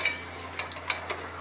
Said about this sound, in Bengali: আলু নরম হয়ে গেছে, ভালো করে ঘেটে নেব।